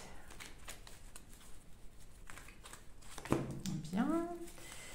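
Tarot cards shuffled for a card draw give a soft, continuous papery rustle, with a voice speaking briefly near the end.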